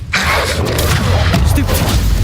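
Confringo blast spell fired in Hogwarts Legacy, a loud, dense explosive boom that starts abruptly and rumbles on without a break, crackling crash and debris layered through the burst.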